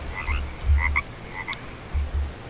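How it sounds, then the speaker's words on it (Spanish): A frog croaks in the Green Hell survival game, several short, low, throaty croaks in loose pairs, close and clear with no talking. "Uy, una rana verde."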